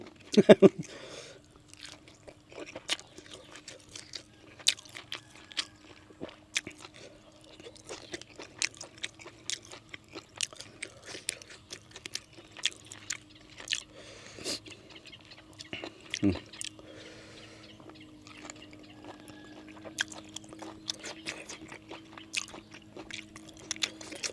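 Raw chili peppers being bitten and chewed alongside fresh meat and vegetables at a Thai Isan meal, giving close, repeated crunchy bites and wet chewing in an irregular rhythm over a faint steady hum.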